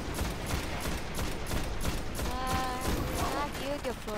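Rapid gunfire rattles in a solo Destiny Nightfall strike, dense repeated shots at moderate volume, with a voice talking over the battle.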